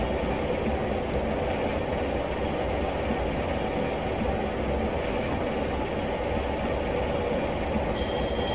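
Train noise in Train Simulator Classic aboard a Class 101 diesel multiple unit running from Berwick-upon-Tweed to Newcastle as another train approaches: a steady, loud rumbling roar that holds throughout, with no talk.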